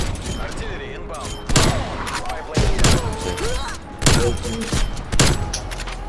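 Artillery strike explosions in the Black Ops Cold War video game, several loud booming blasts landing in bursts among gunfire, with voices talking over the action.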